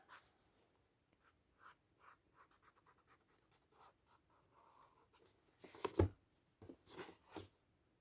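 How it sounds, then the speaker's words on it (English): A blending tool rubs white charcoal into paper on a tangle drawing, giving soft, intermittent scratchy strokes that stay faint and close, with a louder scuffing burst near the end. "grab our blending tool and start to blend that in"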